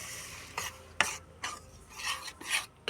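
A spoon stirs a thick milk mixture in a pot as water is slowly added, giving close, wet scraping strokes in uneven bursts with short pauses between them.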